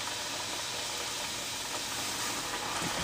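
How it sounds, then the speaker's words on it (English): Fry bread dough frying in hot oil, a constant dense sizzling hiss and bubbling crackle, close and steady with no talking. "I'm going to stick them in the oil. And as I do that, they'll start to boil and bubble."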